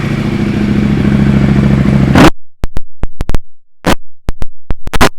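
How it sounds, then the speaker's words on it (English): A 2018 KTM Superduke 1290 R engine idling loudly, then cutting out to a series of sharp, separated pops and crackles from the exhaust after revving. "so we will give it a bit of a rev for you"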